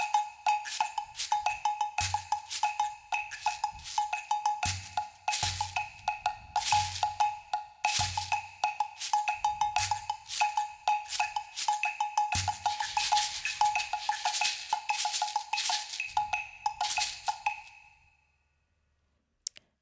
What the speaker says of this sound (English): the instruments that I had chosen to play the rhythms was this Cuba Rhythms instrument